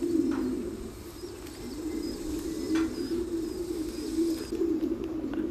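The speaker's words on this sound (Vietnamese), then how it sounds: "Còn đây là con chim bồ câu 6 tháng tuổi." A six-month-old pigeon coos steadily and close by in a low, continuous murmur, with faint chirps and rustles in the background.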